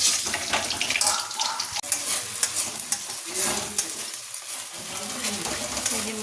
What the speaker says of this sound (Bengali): এই যে মশলাটা কষা হয়ে যাচ্ছে